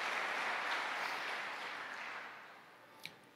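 A large church congregation claps in a dense, steady wash of applause that slowly fades away.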